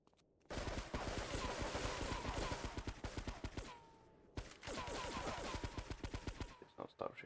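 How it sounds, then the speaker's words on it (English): Sustained automatic gunfire in the Grand Theft Auto 3 video game, a loud rapid stream of shots that breaks off briefly and then resumes, tapering into a few scattered rounds at the end. "Please don't stop shooting."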